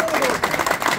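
A crowd claps for champions at a pigeon-flying tournament, a short burst of applause that rises and falls over a busy, noisy background.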